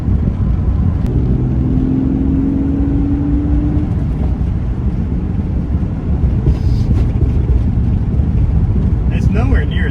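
Car cruising after a ride quality fix, heard from inside as a steady low engine and road rumble with wind buffeting, continuous and fairly loud throughout.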